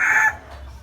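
A fighting rooster offered for sale lets out a short, loud, close crow or cluck that cuts off abruptly, leaving faint low background noise.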